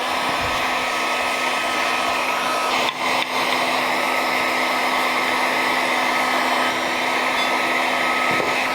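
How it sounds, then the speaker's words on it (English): A heat gun blows steadily to melt beeswax on a one-piece silicone cut mold box, a loud continuous whooshing roar with one brief dip, heard alone. "Heat gun in hand, and away we go."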